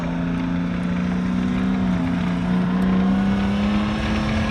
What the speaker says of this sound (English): So there's the aircraft passing away as well.